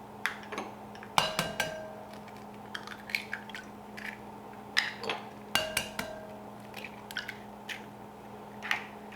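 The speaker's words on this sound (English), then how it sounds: "Whisk those together." Eggs, three large ones, whisked in a larger bowl for a homemade pumpkin roll, giving sparse clinks and taps of the whisk against the bowl over a steady background hum, close and fairly quiet with no talking.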